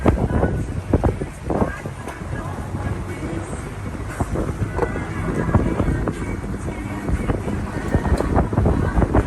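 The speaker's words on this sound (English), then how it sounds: "There's a lot of boats coming up." Motorboats pass on the water near St. Augustine, Florida, a continuous rumbling wash of engine and wind noise heard from aboard a moving boat, with voices faint underneath.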